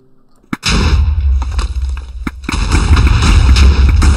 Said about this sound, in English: Let's try the beggar's bazooka.